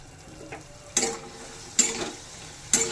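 A spoon scrapes through fried vegetables and spices for a veg dal, three sharp stirring strokes over a faint sizzle in a quiet pan.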